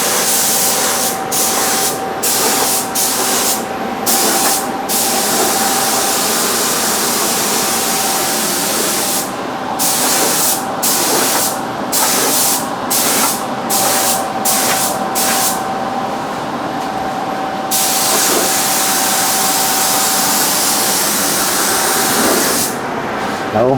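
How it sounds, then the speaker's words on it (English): A steady, close spray hiss of sealer being sprayed on a driveway runs almost continuously, cutting off briefly several times in short bursts, with a faint constant tone and occasional voices underneath. "We'll spray sealer first,"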